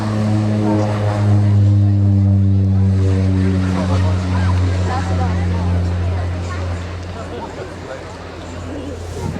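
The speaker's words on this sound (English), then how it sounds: "A short takeoff roll being demonstrated there by this aircraft" A North American OV-10B Bronco turboprop makes a short takeoff roll at an airshow at Waddington, its loud, steady propeller and engine drone fading slightly as it moves away.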